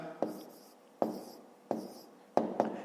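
A pen writes down answers to a fifth-grade maths exercise, giving four or five sharp taps and short scratching strokes spaced about a second apart in a quiet room.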